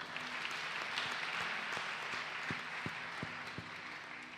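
A church congregation at a worship service claps and applauds together, a dense, steady wash of clapping heard from within the room, with a few louder claps standing out.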